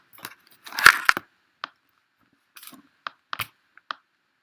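Scissors cut paper for scrapbooking in scattered sharp snips and clicks, a dense burst early on and then single crisp cuts spaced apart, close by with no talking.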